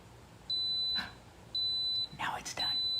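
Three long electronic beeps from a Ninja Specialty coffee maker signalling it is done, steady and high-pitched, about a second apart, with brief low voices and faint clatter between them.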